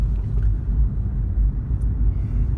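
A Toyota Prius C rolls at about 30 km/h on electric power alone, heard from inside as a low, steady road rumble with no engine note.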